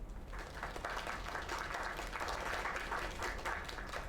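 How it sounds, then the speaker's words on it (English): Sustained applause from an audience at a diner talent show in the video game Lake, dense steady clapping filling the whole moment at an even level. "Another round of applause."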